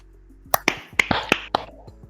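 Hand claps during a casual podcast, about half a dozen sharp irregular claps and snaps close to the mic over a quiet background.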